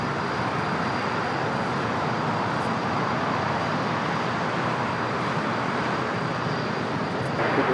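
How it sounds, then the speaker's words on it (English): A Latam airliner arriving from Santiago comes in to land at LAX, its broad steady jet roar filling the whole stretch at close range with no voices over it. "this Latam flight coming in from Santiago, running late here today"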